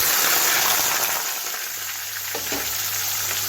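Chopped small onions drop into hot oil with spluttered mustard seeds and fenugreek for bitter gourd thokku, setting off a loud, hissing sizzle that slowly eases into a softer, steady frying crackle.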